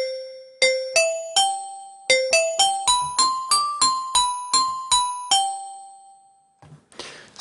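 A synthesized xylophone patch built in the Massive synth, played in a higher register for a bell-like tone, rings out as a rhythmic run of about fifteen bright struck notes with a ringing sustain on the final note.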